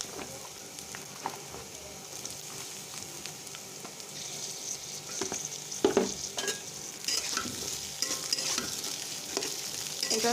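Garlic, onion and green chilies frying in oil over low flame for chepa shutki bhorta, a continuous sizzle with repeated stirring scrapes that grow busier and louder toward the end.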